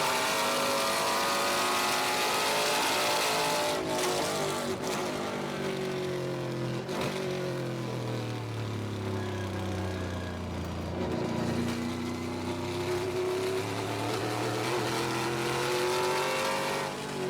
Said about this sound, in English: Listen how they have to feather the throttle there around that oval.